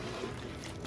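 Water sloshes and trickles softly in a basin as sea moss is hand-washed, a brief, faint, continuous watery rustle.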